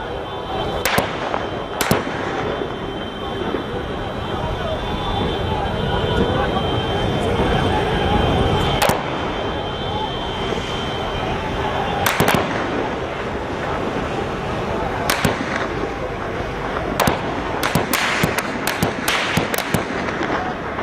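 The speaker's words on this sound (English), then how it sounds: "now we're hearing explosions and gunfire" Sharp bangs and crackling blasts of gunfire and explosions burst out repeatedly, some in quick clusters, over a steady crowd-like din with voices throughout, at a street protest in Turkey.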